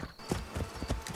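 Horse hooves clip-clop in a steady rhythm during a ride in the video game Assassin's Creed Shadows, the hoofbeats moderately loud and close with faint ambient game sound behind them.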